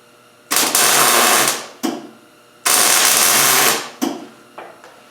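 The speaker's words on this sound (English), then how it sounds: "I tack weld the first one on there" MIG welder tack welding sheet metal pieces for a metal rose: two long crackling buzzes of about a second each, with short sputtering bursts between and after them, loud and close, with no talk.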